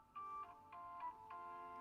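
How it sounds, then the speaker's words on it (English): A mobile phone rings in a repeating electronic melody, a run of bright tonal notes that pulses several times in under two seconds, fairly quiet and alone with no talking. "That's my phone ringing."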